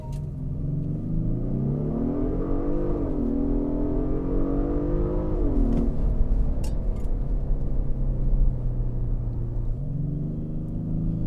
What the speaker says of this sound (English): As you can hear, it's not the greatest sounding engine.